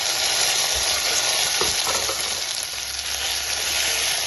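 Chopped medium tomatoes sauté in hot oil for rasam, giving a steady, close sizzle with a few soft stirring knocks. No one speaks.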